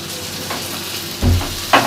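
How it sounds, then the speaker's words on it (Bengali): Chopped carrot is stir-fried with cooked-down masala in a pan for a paneer dish, a close, steady sizzle punctuated by two stirring scrapes near the end. "গাজরটা দিয়ে খুব ভালো করে নাড়াচাড়া করে আরও কিছুক্ষণ মশলার সঙ্গে কষিয়ে নেব"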